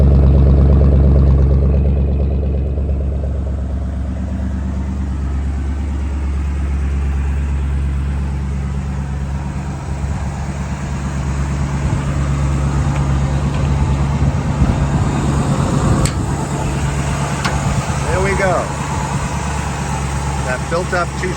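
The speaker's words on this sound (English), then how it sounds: "Go around the back so you can hear the dual exhaust." A 1964 Ford Ranchero with dual exhaust idles in a steady low rumble, heard close from behind the truck, with a person talking over it for much of the time.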